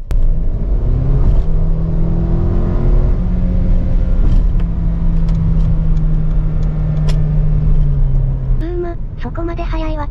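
A Mercedes-Benz GLA220 4MATIC compact SUV accelerates from inside the cabin, its turbocharged engine note rising steadily over several seconds before easing off, with road rumble underneath.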